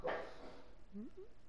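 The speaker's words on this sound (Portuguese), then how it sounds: "Meu cachorro tá latindo" A dog barks in the background of a room where a Dragon Ball Xenoverse 2 game session is running, giving a couple of short, faint yelps after a louder burst at the start.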